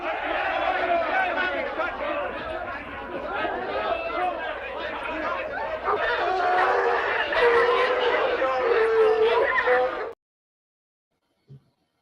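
An angry crowd sound effect plays: a dense, loud mass of many shouting, jeering voices for about ten seconds, then cuts off abruptly into silence with a brief faint click.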